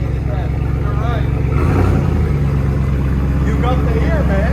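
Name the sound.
2022 Ram Power Wagon 6.4L Hemi V8 idling, Flowmaster Outlaw exhaust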